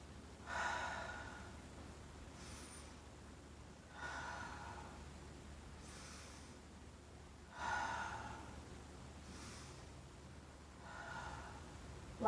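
Slow, deep breathing during a mat exercise: four soft inhale-exhale cycles, close and quiet, each breath a breathy rush followed by a gentle release, evenly spaced with no talking.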